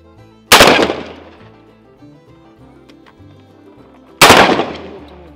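Two loud, close shotgun blasts go off several seconds apart while shooting starlings on a farm. Each report is sharp and booming, with a lingering outdoor echo between shots.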